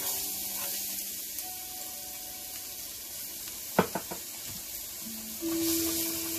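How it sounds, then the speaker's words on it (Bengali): Chopped garlic fries in plenty of hot oil, giving a steady, close sizzle with a couple of brief clinks from a utensil partway through and a soft tone near the end. "এটাকে আমরা এখন একটু ভাজব।"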